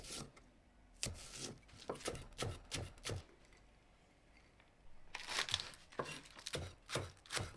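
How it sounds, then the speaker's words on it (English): A knife chops spring onions on a board in quick, uneven bursts of crisp taps, with a short quiet pause in the middle, close and soft. "Mince 3 spring onions, separating the white part from the green part."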